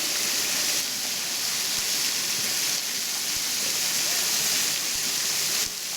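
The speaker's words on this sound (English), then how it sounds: "it is the fountain in which Maria from Sound of Music splashed" Continuous splashing water from a fountain in Salzburg Old Town, Austria, fills the scene, a steady broad rush pouring nearby, with no clear voices.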